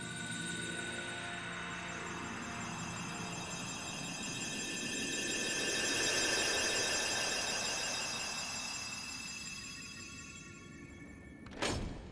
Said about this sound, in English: That's a pretty epic lock sound.